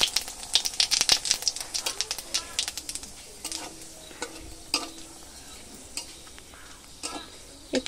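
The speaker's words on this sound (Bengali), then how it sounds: "তো এটা আমি তেলে ফোড়ন দেবো, মাছ ভাজা তেলেই রান্না করব।" Cumin, cardamom and dried chilli tempering in hot oil left from frying boal fish, with dense crackling pops and spits that thin out into scattered sharp snaps near the pan.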